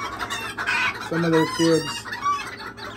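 Old English Game and Azteca bantam chickens cluck and call in a farm pen, several close, bright, repeated notes in short bursts, with a person speaking briefly among them.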